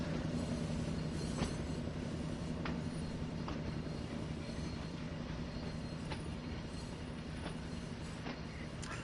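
Trains shunting back and forth to sidings in the simulator game Train Sim World 2 at Tees Valley, a continuous low rumble of rolling stock with scattered metallic clicks and wheel clunks, fairly distant and steady.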